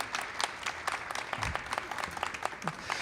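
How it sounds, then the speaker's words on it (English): An audience at a chamber of commerce event claps in a brief, fairly quiet round of applause, a dense patter of many hands with a faint voice underneath. "I want to thank her for being here as well today and give her a round of applause."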